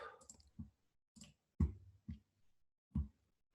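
Several sharp, isolated computer mouse clicks spaced irregularly across a quiet background while browsing an online shop page, each click short and close.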